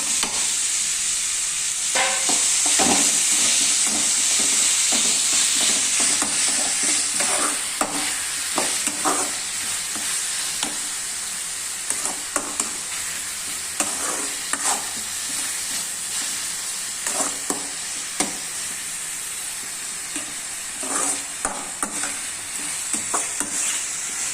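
Onions and tomatoes sautéing in a pan for prawn thokku: steady frying sizzle with intermittent scraping and stirring clicks, no voices, continuous throughout.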